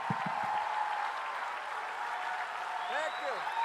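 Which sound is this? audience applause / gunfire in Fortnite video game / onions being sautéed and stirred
audience applause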